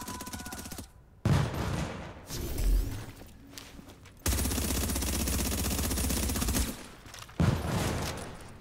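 Gunfire during a PvP last-stand match in The Division, sniper shots among loud sustained bursts and sharp cracks, with short gaps between the volleys and no talking.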